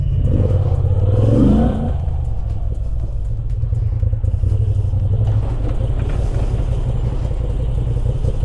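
A 2025 Moto Guzzi V7 Sport motorcycle engine, a loud close steady rumbling idle with a brief rev at the start, then settling into an even throb.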